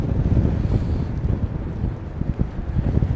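Strong storm wind gusting at Heathrow Airport buffets the microphone in a loud, continuous low roar that rises and falls, with no voices heard.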